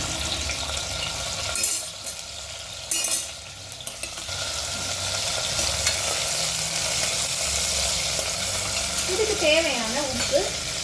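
Chicken biryani masala being stirred and fried in a pot, with continuous sizzling and scraping of a spoon, a couple of louder stirring bursts early on, and faint voice-like tones near the end.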